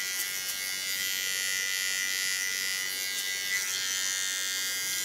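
Electric clippers buzz steadily while shaving off hair for an ultra-short haircut, a continuous close whine with no break across the whole stretch and no talking.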